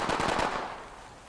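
Gunfire in the tactical shooter game Ready or Not, a quick burst of loud cracks followed by a fading reverberant tail.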